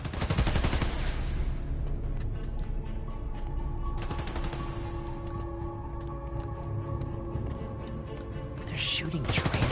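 Sustained automatic gunfire crackles through a shooter video game scene, dense rapid bursts nearly continuous throughout, loud and close, with game noise underneath and a brief swell near the end.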